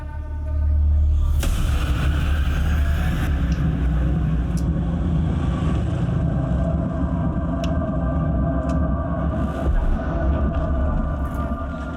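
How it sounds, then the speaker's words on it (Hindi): A car tyre punctures while driving: a sudden loud bang, then a steady low engine and road rumble. "मैम, टायर पंक्चर हो गया।"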